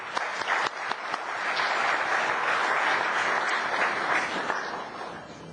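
Applause from an audience of MBA graduates at SIBM Bangalore, a dense, even wash of clapping that swells and holds steady, fairly distant in a large hall with a few sharper claps at the start.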